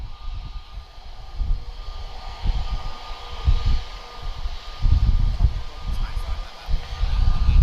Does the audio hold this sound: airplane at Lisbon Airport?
yes